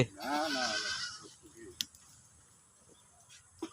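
A goat lets out one loud, wavering bleat up close, followed by quieter rustling and a few sharp clicks, at a goat farm in Rajshahi.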